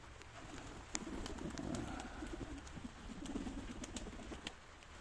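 Pigeons coo softly in repeated low, rolling calls, with faint scattered chirps and light background noise throughout.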